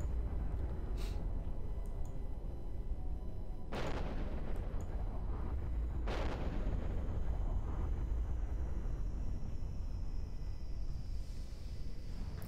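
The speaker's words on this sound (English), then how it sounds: "look at the difference between the smart bombs going off here" Smart bombs going off in the space game EVE Online during a mass test, two loud broadband blasts a couple of seconds apart over a constant low rumbling drone, with a faint rising whine near the end.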